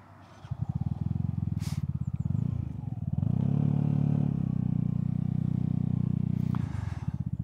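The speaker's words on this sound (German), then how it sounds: "So, dann wollen wir die Testfahrt mit den neuen BGM-Felgen mal starten." A Vespa GTS 300 scooter on new 13-inch BGM rims pulls away and rides, its single-cylinder engine chugging steadily and rising in pitch as it accelerates, close and continuous with a faint rattle, no talking.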